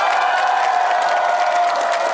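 Dense, steady applause from a large crowd at a Korean political rally, with continuous clapping mixed with some cheering, loud and close throughout.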